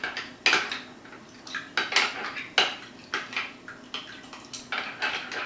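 A spoon stirs and folds a sticky coco bread dough mixture in a bowl, giving irregular clinks and scrapes against the bowl at close range, with no talking.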